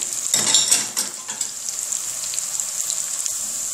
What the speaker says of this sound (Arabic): اول ما يحمروا، بضيف الفلايفل وبضيف البازيلا والجزر واللوبيا